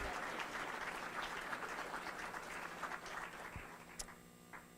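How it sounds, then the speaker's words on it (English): Applause from the audience at a spring convocation ceremony, a dense steady patter of many hands clapping that carries on for several seconds and slowly fades, with a few sharper claps near the end. "We love second rounds of applause and standing ovations."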